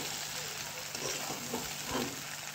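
Okra stirred in a hot pan with a sesame tempering, giving a steady, fairly quiet sizzle and frying hiss with soft scraping strokes of the spoon and no voices.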